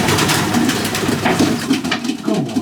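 A young pigeon, slightly bigger than a hand, coos in low repeated pulses while being held, close up with rustling and handling noise throughout.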